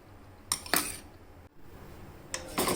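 A metal spoon clinks against the cooking vessel while stirring ragi millet porridge, with two pairs of sharp, close clinks separated by a quiet pause and no talking.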